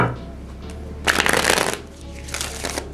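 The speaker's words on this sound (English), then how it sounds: "go ahead and shuffle" Tarot cards shuffled in a deck, a crisp papery riffling burst that swells for about a second, fades, then returns more softly, with no talking.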